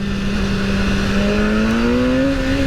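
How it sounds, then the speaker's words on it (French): A BMW S1000R motorcycle engine climbs steadily in pitch as it accelerates at high revs, a loud continuous whine heard up close. "quand on tourne la poignée et que la moto se propulse"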